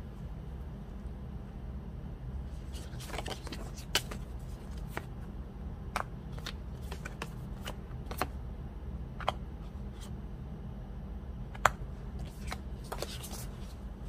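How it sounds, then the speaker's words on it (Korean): Tarot cards are shuffled and drawn in a quiet room, soft riffling bursts and crisp card snaps and taps scattered irregularly over a low steady hum. "일단 처음 썸 타다가 끊어주신 여러분들의 상대방의 마음부터 추가 카드를 뽑아보도록 할게요"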